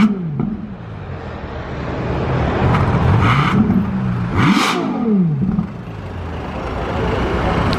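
A black Ferrari hypercar being driven off a delivery truck in Monaco revs loudly up close, with rising and falling engine sweeps and sharp blips, some clatter around it.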